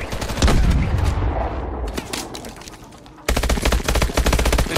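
Gunfire in the Call of Duty Advanced Warfare video game, loud rapid automatic bursts with a brief lull before an abrupt return of dense, close shooting.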